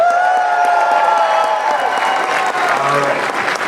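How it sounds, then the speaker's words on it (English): A large audience at the Universal Studios Hollywood Special Effects Show cheers and applauds, a loud, sustained roar of clapping and whoops that swells and holds for several seconds with voices mixed in. "Let's hear that cheer one more time"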